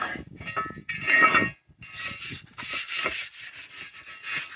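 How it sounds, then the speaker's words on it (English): Repeated scratchy scrubbing strokes of a stiff wire brush against rusty metal parts, close up, in uneven bursts with a short pause midway. "Give them a scrub and hose them off."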